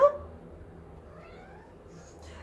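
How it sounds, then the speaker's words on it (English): A cat gives a single short meow right at the start, fairly clear and close, then a quiet indoor room with faint low background hum follows. "Do you hear her meowing?"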